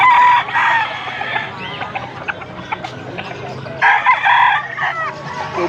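A bulik rooster at a live bird sale in Pampanga crows loudly and clucks up close, with repeated calls rising and falling. Other voices and background chatter run underneath.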